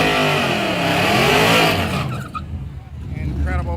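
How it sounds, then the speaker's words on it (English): A supercharged LS-powered Ford Mustang drag car on beadlock wheels does a burnout in the left lane at a drag strip, its engine roaring loud and close before dropping to a rumbling idle while tires hiss, with a crowd and talk around. "Burnout with the bead lock wheels on it."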